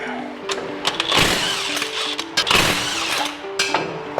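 A socket wrench spins a 14 mm nut off the suspension of a Nissan Titan during lower control arm and ball joint work, giving a steady close ratcheting whir with a few louder bursts.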